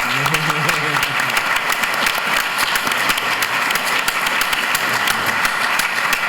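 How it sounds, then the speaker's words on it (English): An audience at an artificial intelligence talk breaks into loud, sustained applause, with a voice heard briefly at the start before the clapping takes over. "Round of applause."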